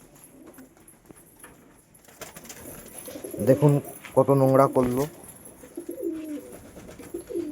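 Several newly acquired pigeons, including Lotan birds, coo in a loft, with a couple of clear cooing bursts in the middle over background noise while someone talks nearby.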